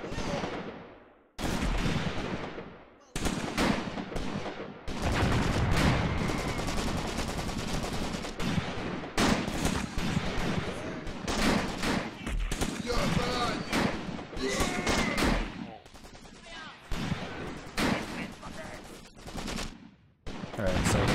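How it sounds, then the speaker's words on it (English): Heavy gunfire and artillery fill a Graviteam Tactics battle in a forest, with loud machine gun bursts, booming blasts and brief lulls between sustained volleys. "Heavy guns are hitting us, losing our squad just like that."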